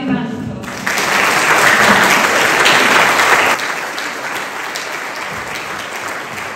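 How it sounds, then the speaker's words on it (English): A senior citizens' audience applauds a brass band at a concert: loud, dense clapping swells after a short pause and holds for several seconds, then continues more softly to the end. "Give them a round of applause."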